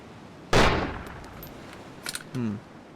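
A single loud, sharp sniper rifle shot in the video game ARMA 2 DayZ Overpoch mod, a sudden crack with a decaying tail, followed by faint mechanical clicks and a brief low tone.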